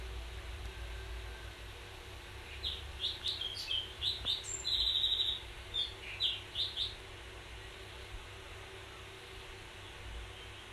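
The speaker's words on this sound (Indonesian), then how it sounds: "Nggak tahu burung apaan." A small bird of unknown species chirps in a quick series of high, thin notes, moderately faint, against a steady hum of a fan or air conditioner.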